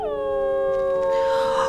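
A wolf's long howl in a wolf simulation game, a single sustained tonal wail that slides slightly downward, clear and close.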